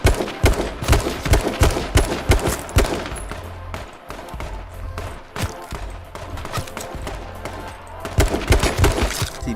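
AR rifle fire in the video game H1Z1, loud rapid bursts of shots in quick succession with brief pauses between volleys.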